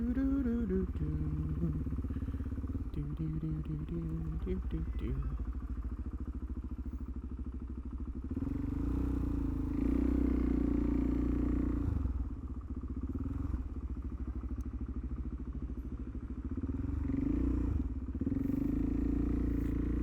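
A motorcycle engine idles steadily while stopped, a continuous low rumbling throb with loose clattering that swells slightly in places, close and dominant throughout with no talk.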